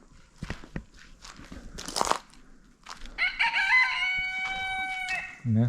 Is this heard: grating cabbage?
no